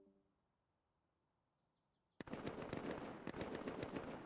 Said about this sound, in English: Just the pure sound of raiding and gunfire.